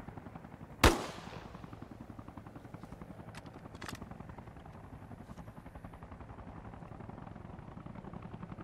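In the military game Arma Reforger, a sharp gunshot cracks out early, then a couple of fainter shots follow over the steady chop of a nearby helicopter's rotor that continues throughout.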